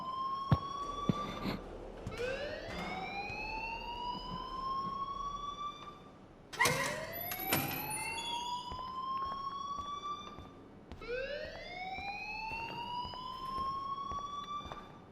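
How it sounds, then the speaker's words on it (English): A rising, wailing alarm in the Life is Strange video game, sweeping upward in three long repeated cycles with a few sharp clicks between them; loud and close, with no talking. "please turn off that alarm since that's your job"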